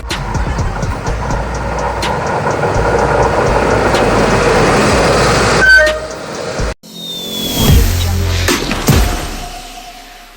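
Inside a moving train on a long trip from Vadodara to Telangana, a loud steady rumble and rattle build, then the roar drops abruptly and returns with a horn-like tone and clanks.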